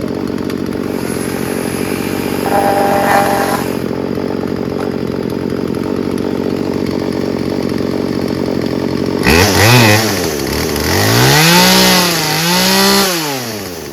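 A Craftsman 16-inch 38cc gas chainsaw engine drones steadily at idle, then revs up and down in several rising and falling surges near the end.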